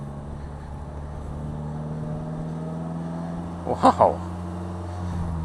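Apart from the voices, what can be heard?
driving a Polaris Slingshot, engine running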